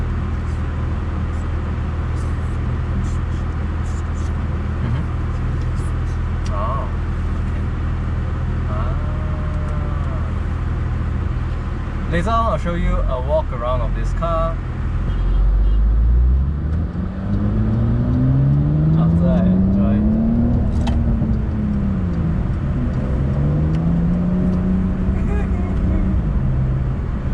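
A Porsche 992 Carrera 4S engine hums loud and steady while driving, then revs up with rising and falling sweeps through gear changes, its interior drone constant, with someone talking over it early on.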